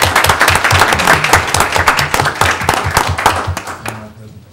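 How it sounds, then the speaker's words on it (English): Close, loud clapping fills a school board meeting room, with distinct rhythmic hand claps that die away near the end. A voice is heard briefly underneath. "Let's give them a round of applause, everybody."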